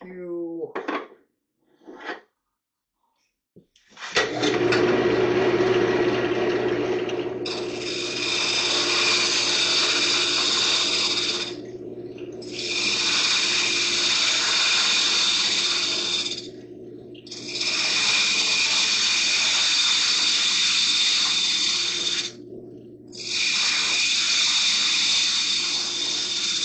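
Skew chisel cutting a pine bowl on a wood lathe: a steady low motor hum with four scraping, hissing cuts of several seconds each separated by short pauses, close, after brief talk at the start.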